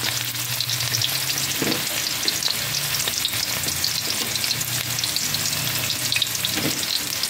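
Onion sizzling and frying in a pan for adobong palong with mushrooms, a loud, steady crackling hiss with occasional stirring scrapes, close and continuous with no talking.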